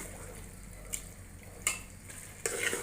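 A spoon stirs yogurt eggplant bharta in a pan, giving quiet, faint scraping under a low hiss, with three brief, sharper clinks of metal.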